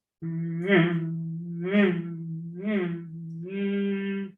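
A steady resonant hum from a tuning fork in a pipe, swelling louder three times before holding a sustained tone.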